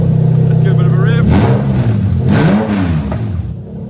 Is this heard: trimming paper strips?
no